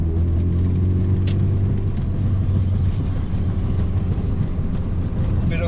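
Low, steady engine drone from a Mazda MX5 NC with a 2.0-litre engine and modified exhaust, heard from inside the car as a constant rumbling tone with road noise mixed in and a brief click near the start.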